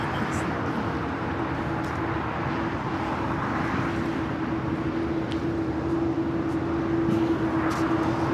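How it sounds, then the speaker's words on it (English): A British Airways jet bound for London Heathrow rolls for takeoff on runway 25 right at LAX, a steady broadband jet roar with a sustained tonal whine, heard at a distance and holding level for the whole stretch. "We still have our British Airways up next. Flight 282 heading to London Heathrow."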